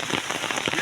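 Rain falls steadily on Eid morning, a dense, even patter that is close and moderately loud with no voices, over a very brief stretch.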